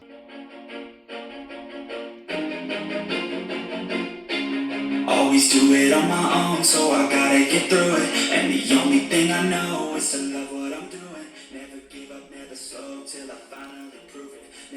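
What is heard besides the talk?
song playing from Bluetooth speaker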